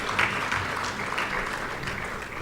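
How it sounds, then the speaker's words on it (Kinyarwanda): Audience clapping at a monthly prayer breakfast held by Rwanda Leaders Fellowship, a steady, moderately loud wash of applause that lasts through the moment. "mumfashe dukomera amashyi Ben na Chance batuyoboye neza mu guhimbaza"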